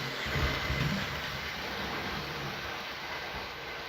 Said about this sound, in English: No, I just mean for a big loco like this.